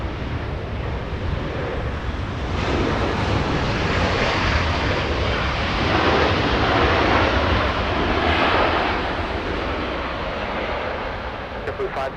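A Boeing 747 airliner at Los Angeles International Airport roars steadily for the whole stretch, a loud, broad engine rumble that swells slightly in the middle, with no talk over it.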